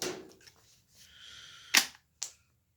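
A 5.56 cartridge falls while a Magpul 40-round AR-15 magazine is being loaded, giving a sharp metallic clink and then a second, smaller tap after a quiet stretch of faint handling noise.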